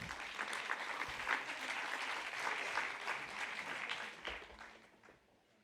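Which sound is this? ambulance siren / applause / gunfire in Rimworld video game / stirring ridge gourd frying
applause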